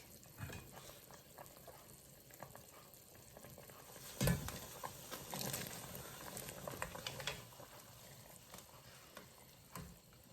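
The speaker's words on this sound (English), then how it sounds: "Now I'm going to add my speckled butter beans." Speckled lima beans tipped into a pot of boiled meat and stirred, with a sharp splash and clatter as they go in, then soft stirring and bubbling simmer close by, fairly quiet and without talk.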